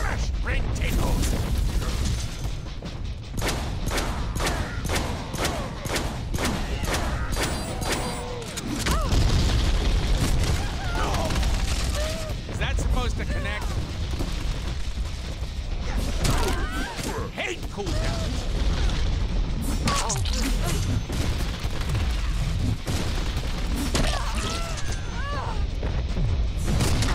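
Deadpool video game combat: repeated loud shotgun blasts and booming explosions amid crashing debris and mechanical clatter, a dense, constant battle soundscape with voices speaking throughout.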